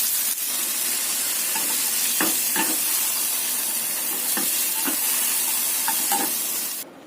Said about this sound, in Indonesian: Ini saya cuma akan tumis sebentar, cuma sampai layu saja ya